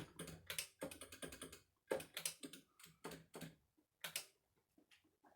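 Quick bursts of keyboard typing, clicking keys in short uneven runs with brief pauses, close and quiet.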